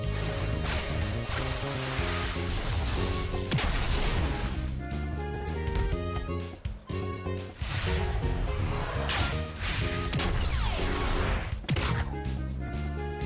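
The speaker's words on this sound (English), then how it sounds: "I'm going to use the Fire Tornado." Fire Tornado special shot in the Inazuma Eleven soccer video game, a burst of loud booming impacts and crashing whooshes layered over energetic game music, dense and continuous throughout.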